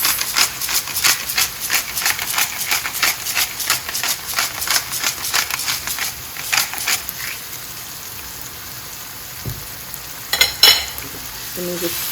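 Seasoned chicken pasta being stirred in a hot pan: rhythmic spoon strokes scrape over a sizzle for several seconds, then the frying settles into a quieter simmer with a few later clinks.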